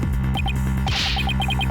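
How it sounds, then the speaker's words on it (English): A heartbeat sound effect from the video game Ace Attorney: Dual Destinies: a slow, deep thumping pulse beats steadily over a low electronic hum, with a soft swell of airy noise in the middle. "it sounds like this time it's the voice of Miss Wood's heart"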